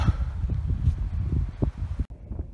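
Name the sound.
strong wind on mountain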